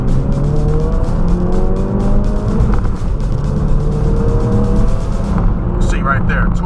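Ford Focus RS engine pulling hard on twisty roads, a loud continuous roar with rising and falling rev sweeps, gear changes and a brief tire squeal near the end.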